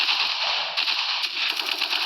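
Gunfire in a Counter-Strike style video game, rapid automatic bursts of bright crackling shots that keep coming, loud and steady, and no talking.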